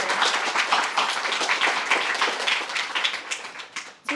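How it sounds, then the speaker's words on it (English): Audience applause at a debate league summer camp showcase, a dense burst of many hands clapping together, loud and sustained before tapering off near the end. "So just one more round of applause."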